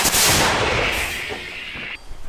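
A single loud artillery gun shot from a field position, a sharp blast followed by a long rolling rumble that fades over about two seconds.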